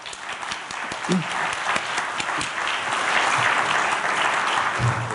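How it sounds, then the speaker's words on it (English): Steady applause from a conference audience welcoming a keynote speaker on stage at a maritime industry event, a dense wash of many hands clapping that holds and swells slightly, with a few louder claps standing out near the front. "A round of applause for Paul Gallie, everyone."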